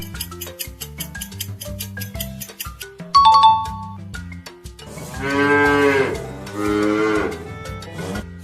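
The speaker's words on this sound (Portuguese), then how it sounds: "esse é o som do boi" An ox moos twice in long, drawn-out lowing calls. The calls come over a bright plucked and chiming children's music bed that carries on throughout.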